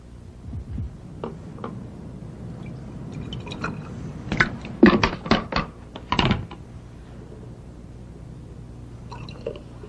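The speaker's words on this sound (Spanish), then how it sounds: "Mire las burbujas." Liquid from a chemical reaction fizzes and pops, with a cluster of sharp drip-like ticks and bubble bursts in the middle, close and fairly quiet, with no talking.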